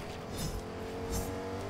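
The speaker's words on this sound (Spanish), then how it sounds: "Viene coche, Belén, cuidado." Car driving in the video game Fortnite, a continuous engine drone with tire noise passing close by, the sound swelling twice as it moves, heard alone without talk.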